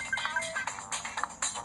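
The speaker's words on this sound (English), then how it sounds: "I'm sorry about the notifications. It might be annoying the way it sounds." A tablet gives off repeated bright notification chimes during a game, several short tones in quick succession, with some talking underneath.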